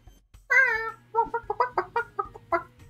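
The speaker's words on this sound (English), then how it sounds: "I assume it's a chicken" A chicken clucks in a quick series of loud, close bursts, opening with a longer drawn-out call followed by shorter rhythmic clucks, with no talking over it.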